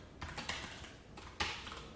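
Code is typed on a computer keyboard at close range, a few quiet, soft key clicks coming in small irregular bursts against a faint background hiss.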